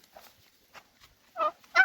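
Two loud turkey gobbles near the end, after a few soft, scattered bird calls; no talking.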